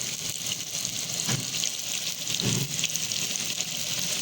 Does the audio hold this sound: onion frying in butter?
yes